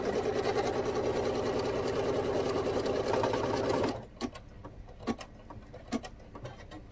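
An embroidery machine sews reinforcement stitches on a bag in a hoop, a steady loud rapid needle drone for about four seconds that stops abruptly, followed by a few faint clicks and taps.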